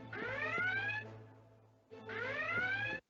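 Alarm in a lifesaving video game signalling a drowning: two loud rising electronic siren wails, each about a second long with a pause and fading tail between them, ending abruptly.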